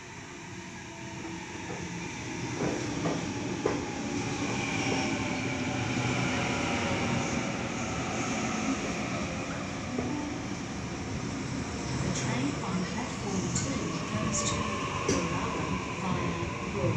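A Sydney suburban train rolls into the platform at Killara station, a steady broadband rumble of wheels and motors building and holding close by, with faint squeals and clanks scattered through and a muffled announcement voice under it.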